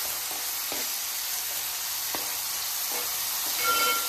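Tomatoes and garlic sizzling in a pan for crab curry, a steady close frying hiss with a few faint clicks of stirring.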